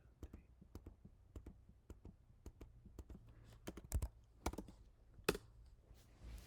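Keys clack on a computer keyboard while a command is entered for a programming assignment, a string of sharp, close clicks in an uneven rhythm, with a few heavier strokes toward the end, quiet and without speech.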